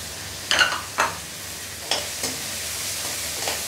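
Onions frying with curry leaves and a green chilli for egg kothu idli, a low steady sizzle broken by a few sharp scraping stirs of a spoon against the pan.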